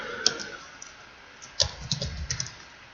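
Keys tapped on a computer keyboard while entering a character name, a few sparse, close clicks followed by a quicker short burst of typing.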